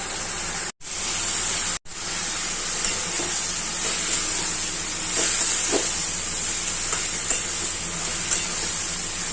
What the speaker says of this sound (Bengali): মাছের মাথাটা মশলাটা পুরো কষানো হয়ে গেছে, চাল কুমড়োটা দিয়ে দিচ্ছি।